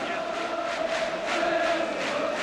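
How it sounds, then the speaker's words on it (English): Large football crowd at Orient v Manchester United, waiting in a sunny stadium before the season's opening match; a steady, dense murmur of distant voices at moderate level with no distinct cheers. "now the crowd waits in the sunshine for a start to the new season"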